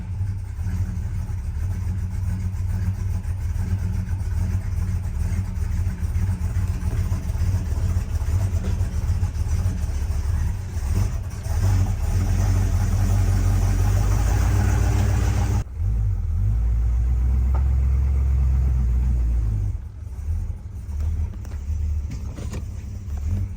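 A classic car engine idles steadily after starting without the throttle touched, a loud continuous low rumble close by with slight shifts in pitch, dropping briefly near the end before settling again.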